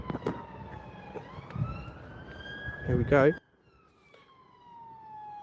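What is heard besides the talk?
police van siren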